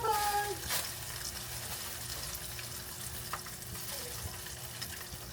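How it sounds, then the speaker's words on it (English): A plain hamburger bun toasts in a hot greased pan, giving a steady soft sizzle and crackle throughout, with a faint brief tone near the start. "And now I'm gonna start toasting my bun."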